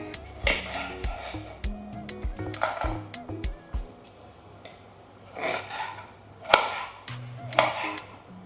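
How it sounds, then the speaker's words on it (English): Knife slicing tomatoes during home cooking in Accra, Ghana: irregular close scraping cuts and knocks on a board, several sharper taps and rasps spread across the moment, with a quiet background hum. "I'm slicing the tomatoes because it makes it easier for me to grind it"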